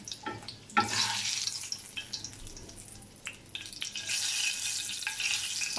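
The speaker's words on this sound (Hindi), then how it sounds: "और इसी तरह हम बाकी कबाब भी इसमें फ्राई करके निकालेंगे" Chapli kababs fry in hot oil with a steady, close sizzle, while sharper crackles and scraping stirring sounds rise and fall throughout.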